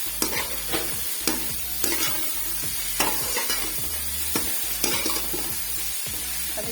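Tomatoes, capsicum and green chili stir-fried in a pan: a loud, close sizzle with regular sharp spatula scrapes and knocks roughly every second, no voices.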